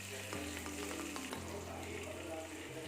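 Bay leaf, cumin, curry leaves and chili thecha sizzle in hot oil in a kadhai, a steady loud frying hiss with crackle and a low hum underneath, continuous with no talk.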